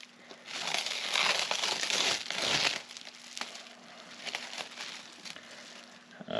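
Saran wrap crinkling and crackling close up as two wrapped locks are handled and unwrapped, loud at first, then softer intermittent rustles.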